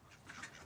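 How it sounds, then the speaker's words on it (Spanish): Ducks quacking faintly on a small farm flock of forty-two, a short soft burst of overlapping calls at some distance. "Tengo 42 patos."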